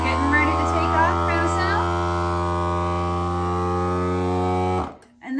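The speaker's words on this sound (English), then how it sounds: "we're gonna put our vacuum sealer to operate" A vacuum sealer runs on a jar of dried apples with a loud, steady electric motor hum that stops abruptly near the end. Faint voices are heard early on.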